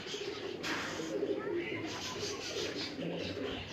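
Pigeons cooing from a rooftop loft, soft repeated coos close by under a steady outdoor hiss, with people talking over them.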